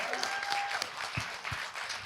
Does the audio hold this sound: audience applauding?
yes